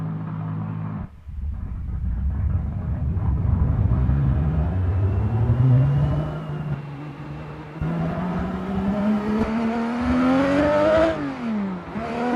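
A race car's engine revs and climbs through the gears in a racing video game, a continuous loud whine that rises in pitch, drops briefly, then rises again near the end, with no talk over it.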